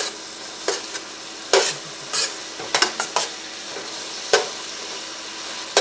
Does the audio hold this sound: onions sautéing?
yes